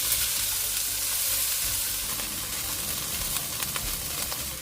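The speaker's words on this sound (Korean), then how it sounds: "어느정도 볶다가 애호박과 소시지를 넣고 소금 2꼬집을 넣고 중강불에서 함께 볶아주세요" Carrot, zucchini and sausage stir-fry with salt in oil in a preheated pan over medium-high heat, giving a soft, continuous sizzle with faint scraping.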